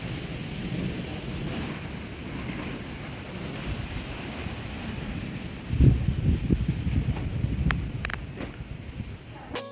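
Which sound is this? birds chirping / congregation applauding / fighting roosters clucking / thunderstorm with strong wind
thunderstorm with strong wind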